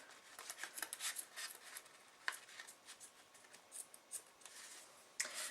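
Scissors snipping and trimming handmade vintage journal paper, a quick run of close, crisp cuts with short pauses and one sharper snip near the end, faint and alone.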